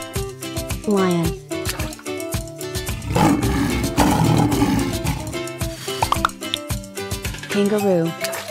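A lion roars in a rough, rumbling burst lasting a couple of seconds, set against playful background music, with a voice speaking briefly nearby.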